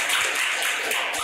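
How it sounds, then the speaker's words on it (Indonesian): Students in an elementary school classroom clap their hands together, a brief burst of dense overlapping claps, fairly loud and close, with no talking. "Oke, tepuk tangan."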